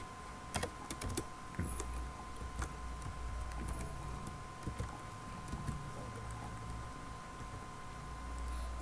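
Python code typed on a computer keyboard, heard as rapid, quiet key clicks in irregular bursts over a steady background hum; no talking.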